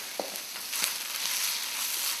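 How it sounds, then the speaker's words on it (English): Cayenne pepper frying in hot oil in a pan for a Kerala fish curry, a steady close sizzle with a couple of small clinks and stirring scrapes near the start. "Let that fry a little bit."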